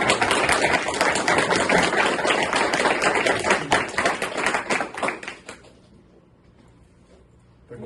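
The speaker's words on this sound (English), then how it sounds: "Can you clap?" An audience applauds at the end of a presentation on Massachusetts snakes, a dense burst of clapping from many hands that thins and fades out after about five seconds, leaving quiet room tone.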